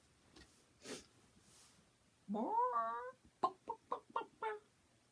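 A voice imitating a chicken in a told fairy tale about a giant's chicken: a long warbling cackle followed by a run of five short, sharp clucks, close and clear, with a couple of faint sounds before it.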